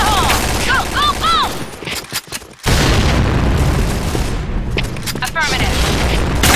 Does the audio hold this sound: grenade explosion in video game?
yes